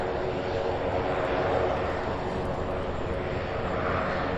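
An airplane taxis at Louisville's SDF airport, its engine a steady broadband roar that holds at an even level throughout.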